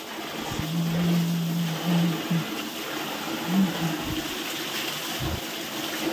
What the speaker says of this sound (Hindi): ये रहा धारा धारे में पाँव धोते हैं